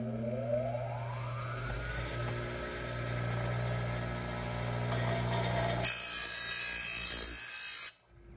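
A power tool spins up and sharpens a Troybilt mower blade. A rising motor whine is followed by a steady grinding drone, then a loud high hiss of metal contact that stops abruptly.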